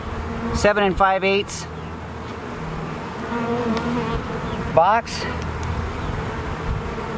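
Honey bees buzz steadily around a hive box in an outdoor apiary, a low continuous drone under a person's speech, with brief louder bursts of activity.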